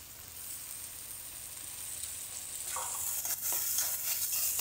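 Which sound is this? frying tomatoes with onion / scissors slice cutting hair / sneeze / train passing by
frying tomatoes with onion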